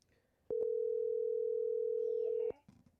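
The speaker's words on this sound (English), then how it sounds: "Can you hear it ringing?" A telephone call's ringing tone sounds as a single steady, clear electronic tone lasting about two seconds, followed by a brief faint rustle.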